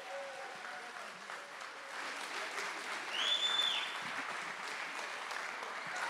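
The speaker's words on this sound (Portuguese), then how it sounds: "uma salva de palmas para os nossos astros." Applause from a live hypnosis show audience fills the room as steady, moderately distant clapping, swelling slightly midway and continuing without a break.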